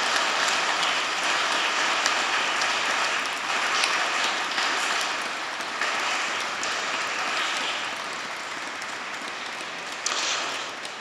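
Sustained applause fills a church during a Mass celebrating a restored facade, a steady wash of many hands clapping that reverberates through the space and slowly tapers off.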